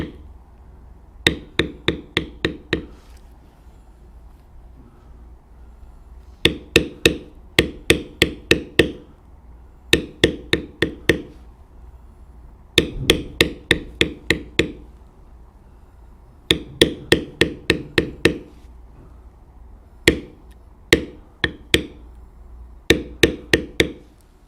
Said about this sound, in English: Now I am using a regular medium-size checkered beveler. I'm beveling around the letters